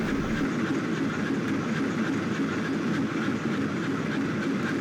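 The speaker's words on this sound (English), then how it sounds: "If only I knew the train was departing now" A video game train departing rumbles steadily at close range, a dense continuous roar of wheels and carriages with no pauses.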